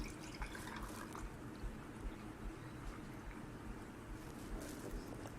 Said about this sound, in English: I'm going to fill it up with the pineapple juice